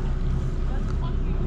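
A small motor launch runs its engine during manoeuvres in a harbour, a loud, steady low rumble with wind noise on the microphone throughout.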